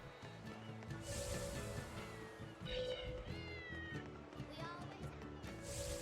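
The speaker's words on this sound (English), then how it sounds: "An angry cat around here somewhere." An angry cat meows and yowls in the video game Tales of Berseria, several drawn-out cries sounding over steady background game music.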